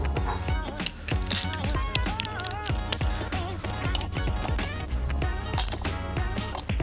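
Screws being given a final tightening on a Derbi Euro 3 engine during reassembly, heard as a close, steady run of ratchet clicks and small metallic mechanism sounds over several seconds, with no talking.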